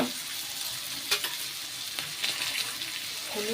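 Potatoes frying in hot oil with black cumin and dried chillies for a thin snakehead fish and mango curry, a loud continuous close sizzle with stirring scrapes and no talking.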